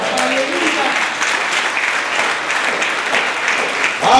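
A church congregation applauds in a sustained, loud burst of clapping that fills the whole stretch, with voices mixed in.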